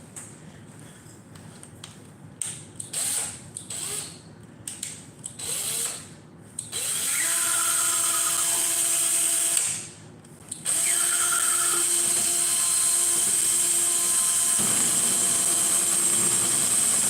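A power drill whirs as a paint stick mixes a can of paint, starting with clicks and short bursts before running in long, loud, steady spins with one brief pause.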